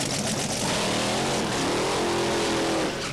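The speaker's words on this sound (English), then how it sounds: "Machines rolling forward for their burnout." Drag racing cars revving hard during burnouts at a drag strip, a loud continuous engine roar with rising pitch sweeps and tire-squeal texture, dense and close throughout.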